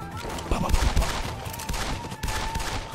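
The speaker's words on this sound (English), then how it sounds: "Kiritsugu, shoot the gun." Gunfire in an anime scene, a dense rattle of rapid shots crackling over loud soundtrack noise for the whole stretch, with no voices heard.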